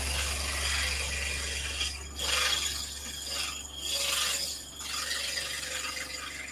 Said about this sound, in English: You can go in and you can actually use this as a sander and kind of go back and forth.